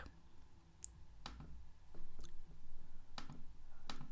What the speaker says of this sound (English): Can you hear me clicking?